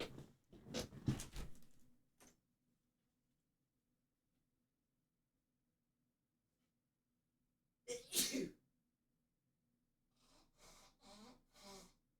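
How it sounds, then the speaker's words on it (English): Someone blows their nose hard in three separate bursts, a short double blast near the start, a sharp one in the middle and a longer snuffling series at the end, each close and loud with near silence between. "I have to blow my nose."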